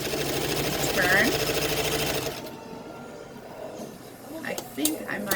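A sewing machine stitches fabric for a dog coat, a fast buzzing run that is loud for the first two seconds and then stops. A person talks over it, and a few quieter handling sounds follow.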